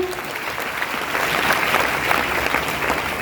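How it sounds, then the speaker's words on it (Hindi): Applause from an audience at a DXN marketing meeting, a steady dense wash of clapping that builds slightly and holds for a few seconds, with faint voices mixed underneath. "जोरदार ताली सुंदर सर के"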